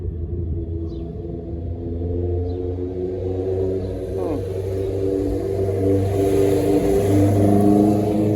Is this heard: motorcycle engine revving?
yes